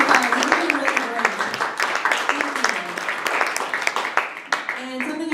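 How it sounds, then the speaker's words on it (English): An audience applauds at a live comedy show, the clapping continuous and fairly close, with some voices and cheers mixed in. "Let's give another round of applause for everyone who's gone so far"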